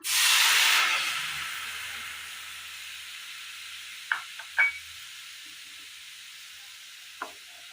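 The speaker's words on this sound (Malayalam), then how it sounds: "അടുപ്പത്തൊരു പാൻ വെച്ച് കൊടുത്ത് അല്പം പാൽ ഒഴിച്ചു കൊടുക്കാം" Milk heats in a pan on the stove, opening with a loud hissing burst that settles into a soft, steady simmering hiss, broken by a few faint clinks and taps.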